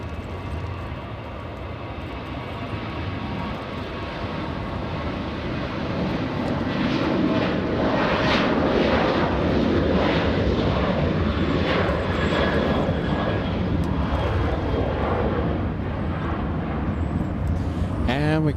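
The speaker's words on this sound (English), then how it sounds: "We have the French 777 arriving." A French Boeing 777 airliner arriving at LAX gives a steady jet roar that swells through the middle and holds loud to the end, with a faint radio voice underneath.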